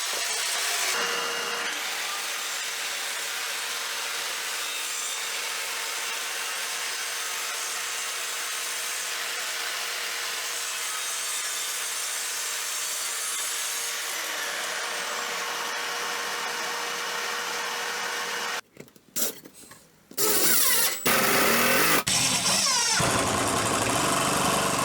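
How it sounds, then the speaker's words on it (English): A loud, continuous mechanical whine of an Evolution R185CCSX+ saw cutting wood runs for about twenty seconds, then stops and starts in short bursts near the end. "back over to the Evolution saw to cut out the rear support parts"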